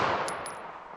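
A single 9mm 115-grain round fired at a target 75 yards out, caught as a loud, broadband report that decays steadily over about a second with no talking.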